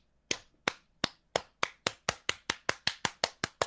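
Fourteen sharp, distinct hand claps from someone, starting slow and speeding up into a steady, quickening rhythm, close and crisp with no talking.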